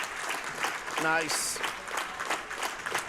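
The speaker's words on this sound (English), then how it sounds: "round of applause and the clap down to 12 seconds" Hobart basketball fans in a gym give a round of applause near the end of a game, a steady crowd clapping under an announcer's voice and a brief shout.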